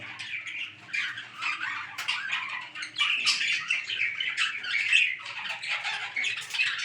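Pet budgies and cockatiels in a home aviary with a garden of mango and coconut trees behind, squawking and chirping continuously in a dense, busy chorus of overlapping calls at moderate volume.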